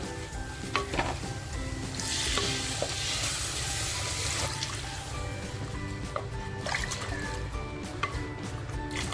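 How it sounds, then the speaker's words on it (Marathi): Stock water from boiled crab legs poured into sizzling fried masala in a pan: a loud hissing surge as the liquid hits, easing into bubbling and dripping with occasional utensil clinks. "हे जे खेकड्याचे छोटे पाय होते म्हणजे नांगडे होते त्याचं मी पाणी काढलं आहे आणि ते पाणी आता ह्याच्यामध्ये टाकणार आहे"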